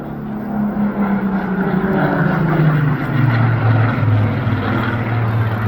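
A Griffon-engined Supermarine Spitfire flies past at the Bournemouth air show. Its loud, droning piston engine roars steadily throughout, and the pitch slowly drops as the aircraft passes overhead.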